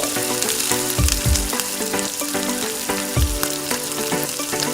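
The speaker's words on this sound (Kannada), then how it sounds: "ಈರುಳ್ಳಿಯನ್ನು ಹಾಕಿಕೊಂಡು ಎಣ್ಣೆಯಲ್ಲಿ ಚೆನ್ನಾಗಿ ಫ್ರೈ ಮಾಡಿಕೊಳ್ಳಬೇಕು" Onions frying in hot oil for a green chickpea stir-fry, giving a constant close sizzle and crackle with occasional clatter from stirring, with no voices.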